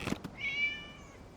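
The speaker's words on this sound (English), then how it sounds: "It was just a cat." A cat in Genshin Impact gives one drawn-out, fairly faint meow, preceded by a couple of brief soft knocks, with no talking.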